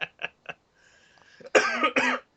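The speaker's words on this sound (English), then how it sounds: "I laugh so hard I made myself cough" A person coughs hard after laughing, first with three short, sharp throat bursts and then a brief quieter gap, followed by two loud, rough, close-up coughs.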